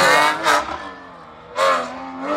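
A Ford Fiesta Rally3 rally car racing through a special stage of the Rally Vosges Grand Est, two loud revving engine bursts with sharp throttle blips separated by a quieter gap.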